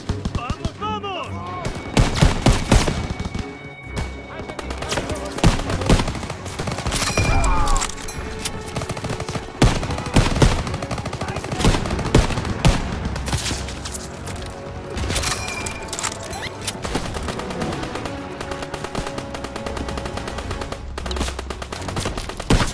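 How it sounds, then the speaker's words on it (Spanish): Dense machine gun fire and gunshots crackle continuously in a World War II combat scene from the Call of Duty WWII video game, with shouting voices mixed in amid the chaotic battle. "¡Hay que dar a las ametralladoras!"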